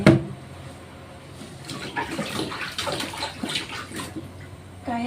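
Tap water runs and splashes steadily while mixed vegetables are washed and soaked for lunch, a close, continuous gush with small bursts of louder spattering.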